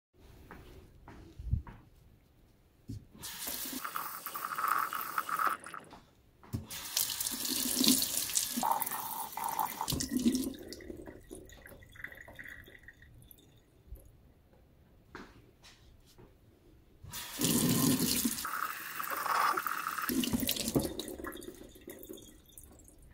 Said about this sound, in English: Now I'm going to slosh them around.